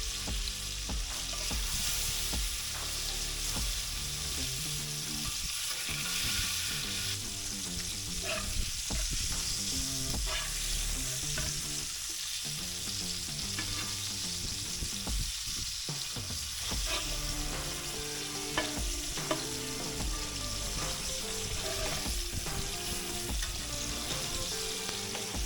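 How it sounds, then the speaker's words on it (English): Wagyu burger patties searing on a hot smoker grill give a continuous loud sizzle and crackle, steady throughout, with scattered small pops and scrapes and no talk. "Once the burger patties are 125 internal, we can get a quick sear on them."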